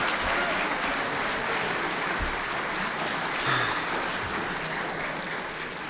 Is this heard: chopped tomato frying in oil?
no